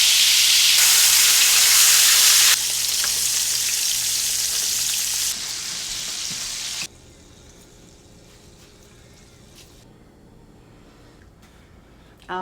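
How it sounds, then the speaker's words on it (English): A pot roast sears in the hot insert of an Instant Pot with loud, close sizzling and frying. The hiss weakens in steps as the meat is turned on its edges, then settles into a quiet simmer near the end. "you just want to hold it upright so that you're searing the edges of your roast"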